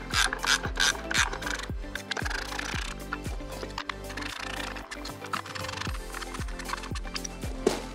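Hot tub pump fittings being tightened by hand on an Artesian South Seas Spas 748L during a pump replacement, giving a steady run of close, rhythmic ratcheting clicks with scraping mechanical rubs, and no talking.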